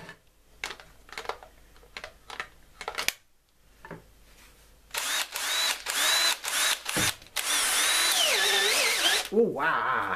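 A cordless AEG power drill whirs in short bursts after some clicking and handling, then runs in longer sustained spins that rise and fall in pitch.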